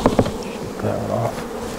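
Honeybees buzzing close by as a hive frame is shaken off, a short burst of dense insect hum with a few thumps from the shaking.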